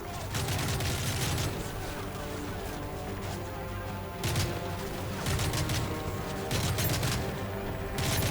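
Gunfire in Call of Duty Modern Warfare 3 comes as repeated bursts of rapid shots in loud clusters over constant game noise, with brief gaps between volleys.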